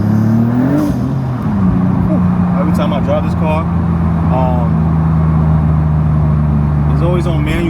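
A car engine revs and holds a steady drone, driven in manual mode, with pitch shifts as gears change, loud and close throughout, with brief higher chirps over the continuous engine note.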